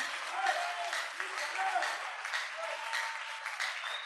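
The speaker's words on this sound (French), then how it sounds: "Est-ce que quelqu'un peut acclamer la parole vivante?" A church congregation applauds for several seconds, steady and fairly close, with a few scattered cheers rising above the clapping.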